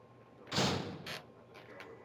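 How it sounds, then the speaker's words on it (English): A door opening in the survival horror game Resident Evil: Director's Cut, a single fairly loud mechanical swoosh followed by a brief softer clunk and faint trailing clicks, heard alone. "we need to go through this door"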